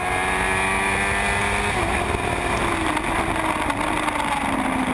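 Formula Gulf 1000 race cars at GP Circuit Dubai scream past on track, their high-revving engines loud and continuous, with pitch sweeping as cars brake hard and accelerate through the corners.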